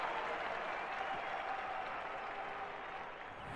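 Steady, dense applause from a large stadium crowd at a London 2012 Olympic athletics event in a video game, a continuous even wash of clapping that holds at the same level throughout.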